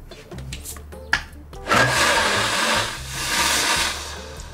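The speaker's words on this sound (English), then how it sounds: "I've blended it for quite a while because I really want it to be silky smooth" A kitchen blender whirs loudly and steadily as it purées a cucumber summer soup with Greek yogurt, green Tabasco, cumin and flake salt, after a brief stop-start at the beginning; no one speaks.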